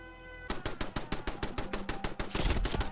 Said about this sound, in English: Oh, that's the enemy turret.